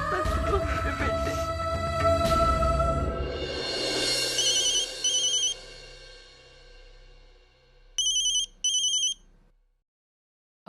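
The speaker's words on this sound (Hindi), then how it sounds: "हेलो अजित, हाँ बाबा कहिए, कैसे फोन किया?" An electronic telephone ringtone in a Hindi TV drama scene gives two short, bright ringing bursts near the end, after a swell of background music fades away.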